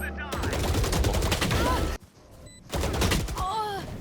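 Rapid automatic gunfire in Valorant, close and loud in a sustained burst that stops suddenly for about a second and then resumes, with short whooshing and ricochet-like effects mixed in.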